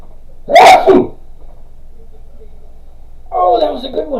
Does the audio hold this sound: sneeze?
yes